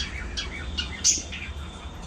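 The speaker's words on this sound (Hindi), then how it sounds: "अब ये 5 चिड़ियाँ आराम से पूरा दिन अपना गाती गुनगुनाती और ऐसी बैठी रहती हैं।" Several pet budgies chirp and warble indoors in quick, bright bursts of short tweets and squeaky calls, one sharper squawk standing out, fairly close with a low steady hum beneath.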